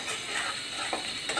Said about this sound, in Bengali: পেঁয়াজটা ভাজা হয়ে যাচ্ছে, প্রায় কিছুক্ষণ সময় লাগবে।